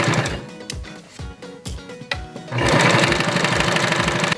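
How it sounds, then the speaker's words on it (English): A sewing machine runs a zigzag stitch along a half-inch seam in knit fabric for a baby head wrap, first in slow separate thumps, then speeding up into a fast, continuous rattling whir. "go ahead and sew the zigzag stitch all the way down."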